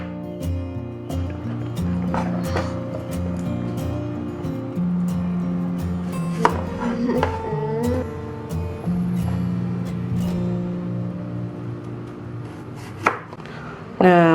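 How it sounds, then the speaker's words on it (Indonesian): A knife slices sweet potatoes into sticks on a board, giving a run of sharp, irregular chopping knocks over a steady tonal background, close and fairly loud throughout. "kita iris, kita potong seperti stick"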